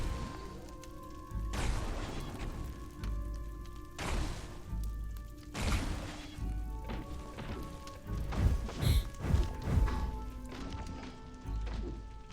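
Heavy punches smashing through quartzite and limestone walls in Caves of Qud, a series of separate dull thuds and crashing impacts spread irregularly, moderately loud over a low background hum.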